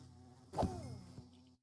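Bees buzzing in Minecraft, a short soft hum with one louder swell near the middle, heard alone with no talk.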